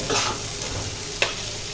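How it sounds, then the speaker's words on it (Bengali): Tomatoes and spices are stirred in a pan for a small fish curry, giving a steady close sizzle with scraping strokes and one sharp clack of the spoon near the end, with no talking. "টমেটোগুলো ভালো করে কষে নেব আবার মশলাগুলো যেন টমেটোর সাথে ভালো করে লেগে থাকে"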